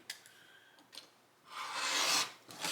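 Quilt fabric is cut between stitching lines on a cutting mat, giving a few faint rasps followed by a longer, louder scraping cut, then another short rasp in a quiet room.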